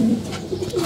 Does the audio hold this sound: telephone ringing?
no